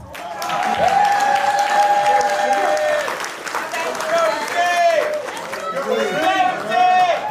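An audience claps for a performer introduced at an entertainment event, the applause dense and sustained while cheering voices and loud crowd chatter rise over it, close and lively.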